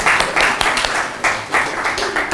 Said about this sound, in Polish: Shall we give Peter a big hand?